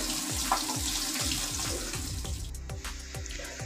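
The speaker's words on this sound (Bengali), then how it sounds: "এবার জল দিয়ে দিব, বেশি জল দিলে হবে না, অল্প জল দিয়ে দেব।" Water is poured into a pot of rui fish as it cooks, a close, steady splashing stream with rhythmic gurgling pulses underneath.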